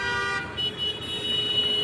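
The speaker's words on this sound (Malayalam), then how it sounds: "ഹോണടിച്ചു, എന്നെ ചീത്ത പറഞ്ഞതാണെന്നറിയില്ല." A car horn sounds on a street in Malaysia with a steady, sustained honk lasting about two seconds over road noise.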